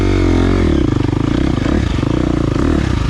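A 2023 KTM 350 XC-F dirt bike engine runs loud and close, revving and chugging unevenly with clattery pulses as the clutch is grabbed a bit late, no talk over it.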